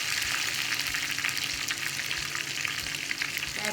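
Garlic frying in two teaspoons of coconut oil for a Kerala sambar, a loud, close, continuous crackling sizzle with bright spitting pops throughout and no voices.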